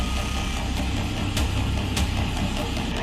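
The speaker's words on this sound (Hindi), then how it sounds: "सैलाबी खतरे के बीच बाइक सवार उफनते नाले को पार करते नजर आ रहे हैं।" Motorbikes crossing a drain swollen by heavy rain in Vikasnagar, Uttarakhand, with a steady engine drone and rumble under continuous rushing water, loud and unbroken throughout.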